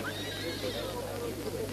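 A horse lets out a faint whinny with a rising and falling pitch that lasts under two seconds, heard over quiet background noise.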